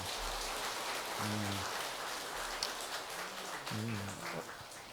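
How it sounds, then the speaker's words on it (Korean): An assembly at a Buddhist temple eye-opening ceremony at a Seon center applauds for a monk. The clapping is a dense, rain-like patter that runs steadily and fairly faint, with a few low voice tones underneath. "우리 법원 스님께 다시 한번 큰 박수 부탁드립니다"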